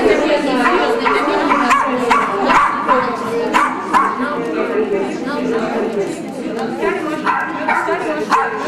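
Small dogs at a shelter for little dogs seeking homes bark and yip repeatedly in quick bursts, with people chattering around them throughout.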